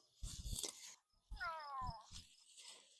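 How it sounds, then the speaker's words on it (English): A cat meows nearby, a drawn-out, wavering cry followed by softer sounds, with some nearby rustling. "Oh, meow."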